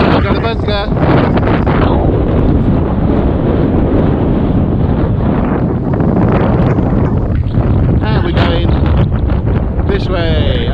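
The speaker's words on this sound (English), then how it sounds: "it's super windy." Strong wind buffeting the microphone in a loud, continuous roar, with a voice briefly audible through the rush.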